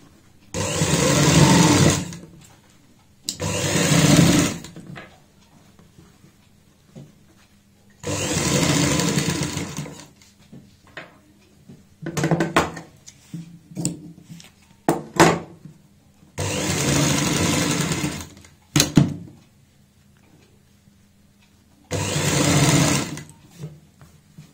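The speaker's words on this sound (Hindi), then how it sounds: "इस तरीके से फोल्ड करते हुए यहाँ पे सिलाई लगाएंगे" A sewing machine stitches folded fabric along a neckline design, running in five loud close bursts of fast rhythmic chatter separated by pauses filled with fabric handling and clicks.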